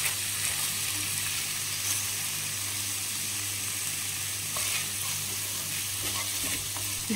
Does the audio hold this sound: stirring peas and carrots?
yes